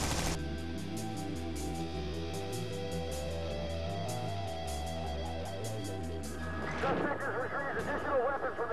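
Two bank robbers in a getaway car roll forward firing their guns, heard as rapid, repeated gunshots under loud dramatic music, with no one speaking.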